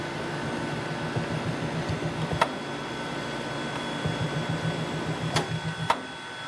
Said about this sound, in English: Did you hear the compressor shut off?